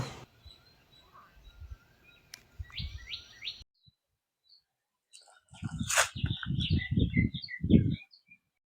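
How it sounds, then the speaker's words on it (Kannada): Birds chirp and tweet around an old stone stepwell in Hampi. Short bright calls come in scattered bursts, with quiet gaps and some low background noises between them. "ನೋಡಿ, ಇಲ್ಲಿ ಪಕ್ಷಿಗಳ ನಿನಾದ ಯಾವ ರೀತಿ ಇದೆ ಅಂತ."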